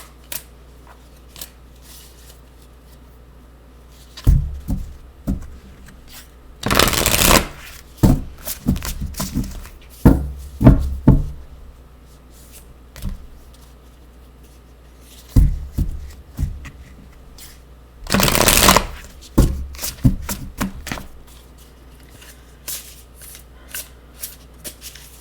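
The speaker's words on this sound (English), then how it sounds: "I'm going to shuffle one more time." Tarot cards are shuffled by hand in several bursts: quick riffles with sharp flutter, separated by softer handling taps and rustles, close and fairly loud, with no talking.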